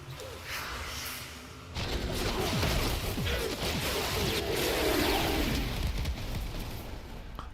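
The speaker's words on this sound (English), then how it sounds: "What's all that explosion?" Heavy, rumbling blasts and crashing impacts from Warframe gameplay roar continuously with whooshing debris, a loud dense barrage that swells after a quieter opening and sustains to the end, no speech.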